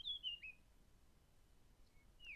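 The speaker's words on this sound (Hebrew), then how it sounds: "שומעים את הציפורים מצייצות" Birds chirping in a forest, a few thin high whistled tweets at the start and again at the end over a quiet, faintly hissing background.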